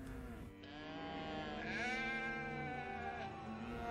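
Drawn-out, wavering sheep bleats from livestock in a field, used as a sound effect in a biblical audio drama about a plague on the herds; a loud, close call that rises and falls, with no speech over it.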